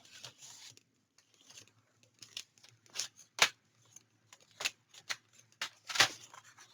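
A paper trimmer slices paper for a Graphic 45 Merry and Bright tag album, giving a series of short, crisp cutting and sliding strokes, close and fairly quiet, with soft handling noises between them.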